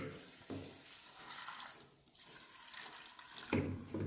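Water runs into a pressure cooker holding chickpeas for kadala curry, a continuous splashing pour close by with a brief lull midway, then pouring resumes.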